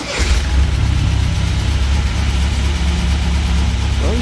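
A shop engine turning over and catching, then settling into a steady, loud idle with a deep low rumble that holds close and unbroken to the end.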